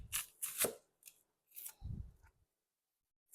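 A knife slices onion paper-thin for chili at a chili cook-off, giving several short, crisp cutting crunches in quick bursts with pauses between, close and fairly quiet.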